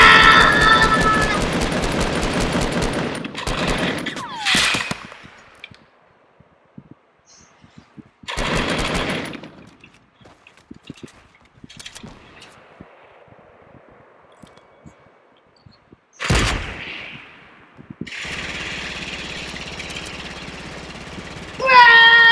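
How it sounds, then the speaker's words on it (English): Gunfire in the Fortnite video game comes in several separate bursts of rapid shots, loud and close, with quieter gaps between them. "someone's shooting me"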